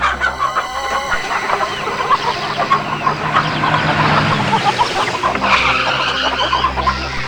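Chickens at a poultry farm, dense overlapping clucking and squawking from many birds, loud and continuous with a busy background din, no talking.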